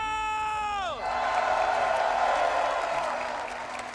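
Large crowd at a Rainbow Six Siege grand final in Montreal, a steady roar of cheering and whooping that swells after a tonal musical sting fades, loud and sustained throughout.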